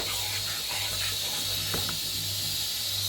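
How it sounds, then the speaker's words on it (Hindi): A pressure cooker hisses steadily on the stove while spinach fries for palak gosht, a continuous loud broadband steam hiss with a low hum beneath and faint clinks, no voices. "और इधर कुकर चल रहा है।"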